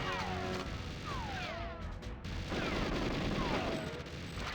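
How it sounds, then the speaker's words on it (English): Automatic turret gunfire in GoldenEye 007's Depot level, a dense, continuous burst of rapid shots with no gaps over the whole stretch, loud and close. "So I'm literally just going to body the shots from this turret."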